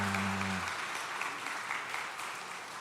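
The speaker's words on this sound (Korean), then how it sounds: "우리 다시 한번 모든 분들을 위해서 박수 부탁드립니다" Congregation applauding at a church ordination and installation thanksgiving service, a steady wash of many hands clapping that starts over a brief low tone and slowly fades across the clip.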